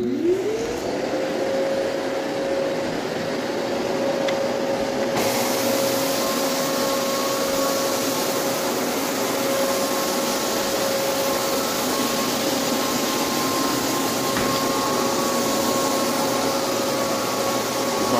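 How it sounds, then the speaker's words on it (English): A vacuum cleaner whirs up to speed and runs steadily with a loud, constant drone and a high whine throughout, on a hardwood floor. "I'm gonna turn my vacuum on."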